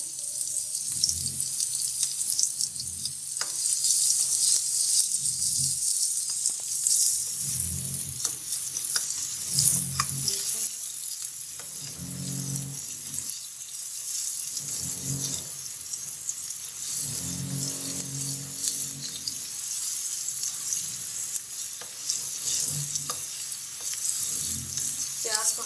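Onion, garlic and ginger fry in a pan over raised heat, a constant hissing sizzle under repeated low scraping stirs that come in regular bursts every couple of seconds, close and fairly loud.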